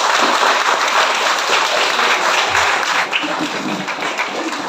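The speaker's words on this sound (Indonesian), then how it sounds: "Mari kita beri tepuk tangan dulu." Students and guests applaud at a junior high school speech contest at SMPN 7 Borong in 2023: loud, dense clapping from a large crowd in a hall, sustained and fairly even before easing slightly near the end.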